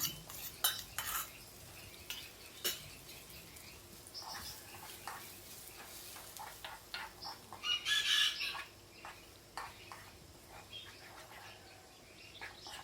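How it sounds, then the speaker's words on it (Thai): Prepared sauce is stir-fried with softened onions in a pan for curried crab sticks, with repeated sharp spatula clinks and scrapes against the metal over a quiet background sizzle, no talking. "ใส่ซอสที่เราเตรียมไว้นะคะ ค่ะใส่ลงไปผัดได้เลยค่ะ"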